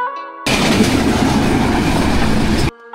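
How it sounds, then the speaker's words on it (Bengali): A train rumbles steadily along the tracks between Dhaka and Sirajganj, Bangladesh, loud and close, with rhythmic clatter of wheels over rail joints throughout. "ট্রেন দ্রুত গতিতে চলছে সামনের দিকে"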